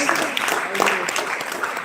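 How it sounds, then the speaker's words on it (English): An audience at a college group-discussion event clapping for a contestant, a brief burst of applause mixed with a voice speaking through the public address. "Let's have a big round of applause."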